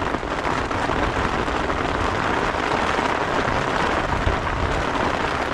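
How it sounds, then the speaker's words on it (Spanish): Heavy storm rain pours steadily, heard from indoors, a dense, constant roar with no pauses and no voices. "Y pues así se vive una tormenta aquí adentro."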